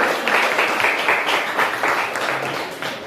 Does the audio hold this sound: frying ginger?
no